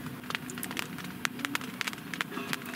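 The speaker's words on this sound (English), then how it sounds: "A few little raindrops. It is really starting to come down now." Light rain falling on a tent while camping near gorges in Australia, irregular soft taps of individual drops striking the fabric close by over a quiet background.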